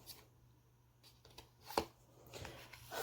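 A deck of tarot cards is shuffled by hand in a quiet room, giving soft, faint riffling and tapping bursts with a few sharper snaps, and no talking.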